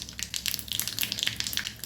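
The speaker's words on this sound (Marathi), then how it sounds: "तेल गरम झालं की आपण फोडणी करून घेऊया" Mustard seeds and cumin sizzle and pop in a spoonful of hot oil for a tempering, with a dense, crackly hiss full of sharp, rapid spits close by.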